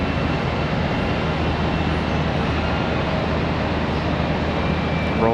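An American Airlines jet takes off at Charlotte Douglas airport, a broad, steady roar of engine thrust that holds loud and even for several seconds.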